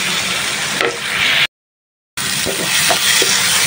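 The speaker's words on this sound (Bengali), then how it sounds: "গরম মশলাগুলো দিয়ে দিলাম মশলাটা ভালোভাবে কষিয়ে তারপর মাছগুলো দিব" Garam masala and spice paste fry in a pan with a steady, loud sizzle and occasional stirring knocks, cut by a brief silent gap.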